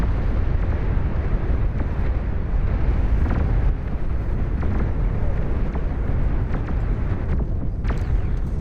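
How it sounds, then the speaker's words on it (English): Massed cannon volleys and explosions from a large-scale battle in the strategy game Beyond All Reason, a dense, continuous roar of overlapping booms and blasts with no pauses across the whole stretch. "Volleys of cannon fire on unprecedented scales."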